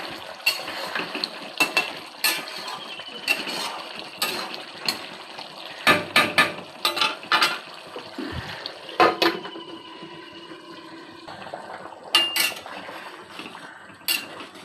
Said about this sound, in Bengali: ঝোলের পানি দিয়ে দিলাম।